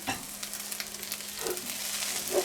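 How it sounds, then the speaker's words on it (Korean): Kimchi fried rice sizzles steadily in a pan as a splash of perilla oil goes in, a constant crackling fry with a few scraping stirs cutting through, close and fairly loud with no talking. "들기름 한번 이렇게 살짝 한번 넣어주고요"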